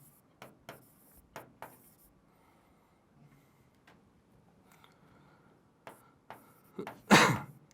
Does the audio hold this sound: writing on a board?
yes